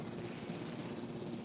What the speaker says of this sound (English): Oh, different helicopter